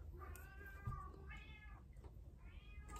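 A cat meows three times, each a drawn-out, quiet call separated by short pauses, close by in a calm indoor room with no talking.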